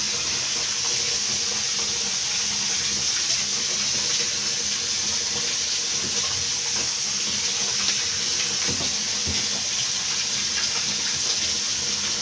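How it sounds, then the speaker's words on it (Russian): Steady tap water pours into a bathtub being filled to bathe a Javan macaque, a continuous close rushing flow that holds level throughout with no voices. "Сейчас еще водичка нальется."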